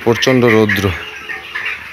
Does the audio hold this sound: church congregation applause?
no